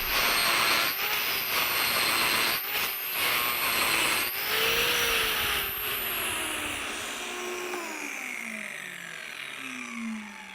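Power carver hollowing a box elder bowl, a loud continuous whining grind with a high tonal whine that shifts in pitch, gradually easing in level toward the end.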